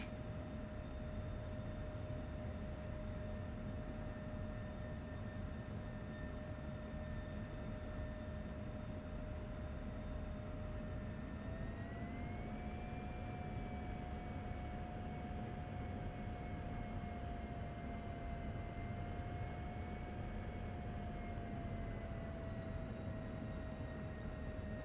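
An F-16C jet in the DCS World flight simulator rolls for takeoff with a loud, continuous engine roar and a whining tone that rises in pitch partway through as thrust builds, with no speech.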